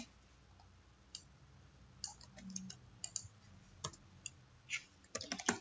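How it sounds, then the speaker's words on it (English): A password goes in on a computer keyboard as scattered, faint key clicks in short bursts, quiet and close, with no talk over them. "key my password"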